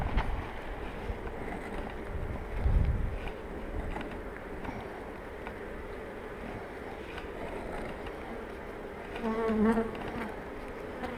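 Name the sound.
honeybees buzzing at an open beehive during hive inspection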